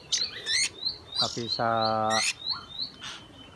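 A young, recently self-feeding debyak bird with a still-short tail chirps in a series of short, bright tweets plus one longer buzzy harmonic call, close by, with some human voice sounds mixed in.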